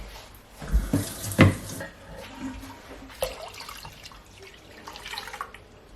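Water pours into a cooking pot for mead made from a 1669 recipe, splashing and trickling unevenly with a few louder gushes early on before settling into a softer, steady flow.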